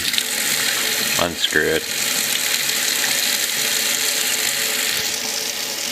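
Tap water streams steadily over the stem and head assembly of a Stardust CE5 clearomizer, a constant close hiss of running water, with a brief spoken aside partway through.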